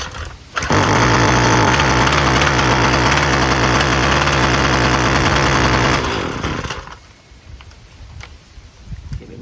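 A Husqvarna 128LD string trimmer's small two-stroke engine, fitted with a new carburetor, fires up and runs loud and rough on choke for several seconds, then drops to a quieter idle.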